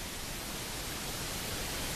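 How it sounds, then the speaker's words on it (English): Steady broadband pink noise, as used in sleep-study sound pulses, fills the whole stretch at an even level with no talk. "adults saw better memory recall after they slept with the pink noise sound pulses"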